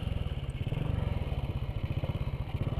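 A motorcycle engine running steadily while being ridden, a fairly quiet, close, rhythmic low putter of regular pulses with no talk over it.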